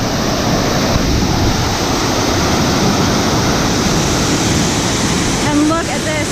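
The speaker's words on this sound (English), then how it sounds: "This is one of my favorite parts because waterfalls are so awesome, and you can go right up to them." Rushing waterfall on a Pennsylvania hiking trail, a loud, constant broadband roar close by that fills the whole stretch without pause.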